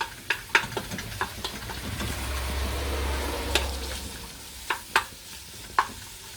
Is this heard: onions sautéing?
yes